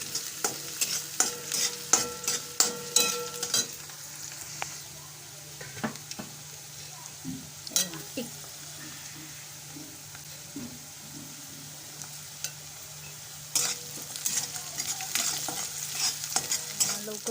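Onion frying in a pan with salt added, a steady sizzle under repeated scraping and stirring strokes that come in bursts, close and moderately loud with no talking.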